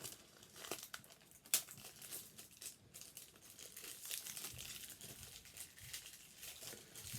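Plastic shrink-wrap is peeled and torn off a boxed film set, giving faint, close crinkling and crackling with a sharp tearing burst early on, then intermittent rustles of handling, with no talking.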